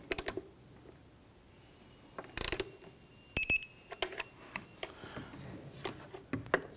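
A torque wrench tightening throttle body bolts on a 2017-2020 Hyundai Elantra 2.0L L4, heard as a few sharp metallic clicks and ratcheting ticks between quiet stretches, close by.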